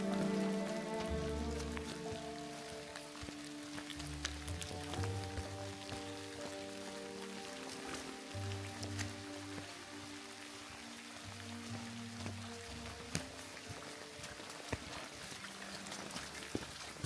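Steady rain falls through a misty mountain forest near a muddy, leaf-covered path in Sichuan, a continuous soft patter with occasional louder drops close by, no voices.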